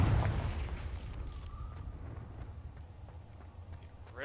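The Confringo fire spell in Hogwarts Legacy bursts into a loud, rumbling explosion at the start, then settles into a crackling fiery roar that trails off over a few seconds.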